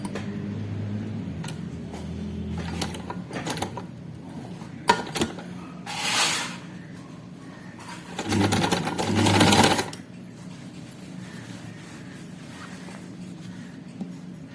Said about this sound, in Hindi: अब इसको सिलाई लगाते हैं। किनारे पे सिलाई लगेगी।